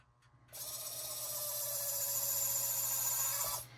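A small electric drill whirs steadily for about three seconds while boring holes through a polymer clay earring piece, a thin high-pitched motor whine that starts abruptly and stops, with a faint low hum underneath.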